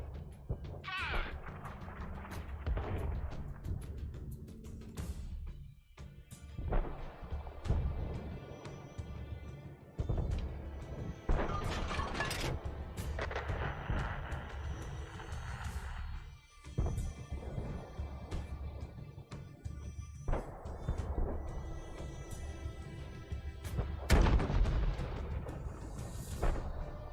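Tank cannon fire in World of Tanks, heavy booms and blasts breaking through a dense, continuous wash of battle noise and engine rumble over a long stretch.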